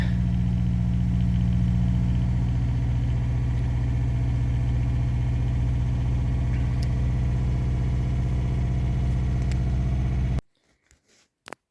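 Just-started vehicle engine idles with a steady low rumble, loud and close for about ten seconds before cutting off, followed by a couple of faint knocks.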